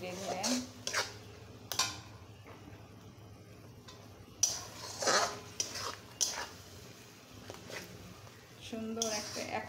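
Blended onion, garlic, ginger and cumin spice paste being slowly sautéed in a pot, with intermittent clinks and scrapes of a spoon against metal and soft stirring sounds between quiet gaps.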